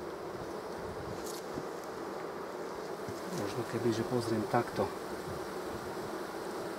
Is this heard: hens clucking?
no